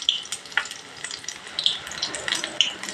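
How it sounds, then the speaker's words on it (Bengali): Battered coriander leaf pakoras, dipped in gram flour, fry in oil over a medium gas flame, crackling and bubbling with sharp spitting pops close by, no voices. "গ্যাসের ফ্লেমটা মিডিয়ামে রেখে ভেজে নিতে হবে"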